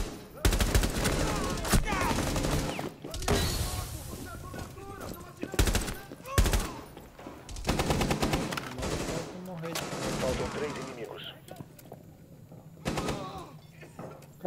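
Rapid bursts of automatic gunfire and single shots rattle through a Rainbow Six terrorist hunt match, loud and close, interrupted by brief pauses, with game voice lines and a player talking in between.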